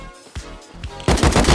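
Gunfire from a shooter video game: a few soft shots early, then a loud, dense burst of rapid automatic fire in the second half.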